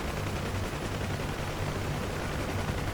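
Door gunners on a UH-1H Huey firing machine guns in the game DCS World: loud, unbroken rapid fire blended with a heavy rotor roar, sustained throughout without a pause.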